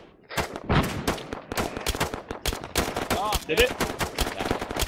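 Small-arms gunfire in the video game ARMA 3: rapid, loud, closely spaced shots and bursts throughout, with brief voice chatter mixed in.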